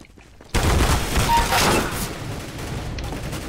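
Sustained, dense automatic gunfire bursts out suddenly after a short quiet start in a CS:GO 2 Arms Race match, rapid and loud, then eases to a steadier rattle with a voice faintly underneath.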